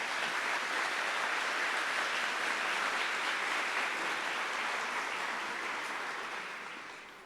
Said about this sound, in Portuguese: vamos aplaudir a palavra de Deus bem forte